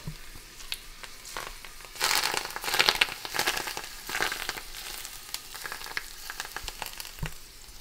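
Broccoli rabe and garlic frying in hot oil in a pan, a steady soft sizzle with crackling bursts and occasional clinks of stirring, no talk.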